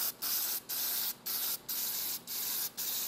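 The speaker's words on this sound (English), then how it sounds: "Spray small, light coats at a time." Steady hissing spray from an aerosol can painting a Chevelle SS wheel, released in six bursts with brief pauses between them, close and fairly loud, no voices.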